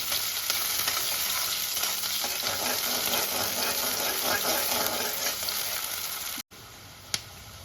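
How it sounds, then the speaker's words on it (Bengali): Onions frying in oil for a Bengali fish curry, a steady dense sizzle that runs close and loud for several seconds, then cuts off briefly and returns with a single sharp click. "প্রথমে দিয়ে দেবো তেল এই তেলে পেঁয়াজ"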